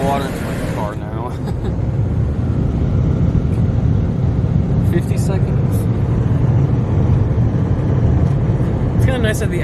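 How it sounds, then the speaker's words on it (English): Powerful dryer blowers at a Monorail Supermatic car wash, Bubbles Car Wash in Aurora, Nebraska, roar steadily as they blast air over a car inside the bay, a loud continuous rush with a person talking briefly over it. "It's kind of nice that they added on some dryers to this."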